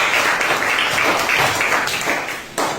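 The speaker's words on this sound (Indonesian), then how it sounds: "Berikan tepuk tangan" A classroom or seminar audience claps after a presentation, a dense, close burst of applause that carries steadily for a few seconds.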